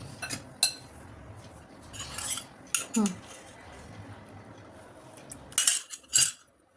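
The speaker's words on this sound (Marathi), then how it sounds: "एका साईडनीच फेटत जायचं आहे" A utensil works Dark Fantasy cake batter and milk in a bowl, giving scattered clinks and scrapes against the sides with quieter stretches between, close by and without talk.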